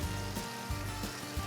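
Burger patties and bacon sizzle in pork fat, giving a close, steady crackling hiss with small bursts of popping over a short stretch.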